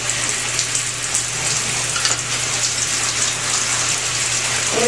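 Shower water running: a loud, steady, close hiss of spraying water with a low hum underneath, continuous for the whole stretch, no talking.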